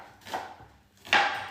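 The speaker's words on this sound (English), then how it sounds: "And then you slice the onion as thinly as you can," Kitchen knife slicing thin rounds of onion on a cutting board: two short, crisp cuts, the second louder and sharper, close by and with no talk over them.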